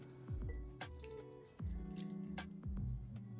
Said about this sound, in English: So I'm gonna measure my water. I'm gonna measure 50 grams.